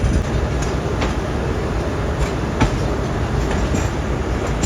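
The Allama Iqbal Express rolls along the rails with a continuous loud rumble and rhythmic clickety-clack of wheels over joints, heard close from aboard the moving train.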